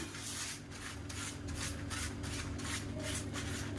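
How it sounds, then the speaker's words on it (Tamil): A hand rubs oil across a banana leaf in the kitchen, making a close, soft, rhythmic swishing and rubbing in quick repeated strokes, with no talking over it. "வாழையில் எடுத்துகிட்டு இதில் கொஞ்சமாக எண்ணெய் தடவிக்கலாம்."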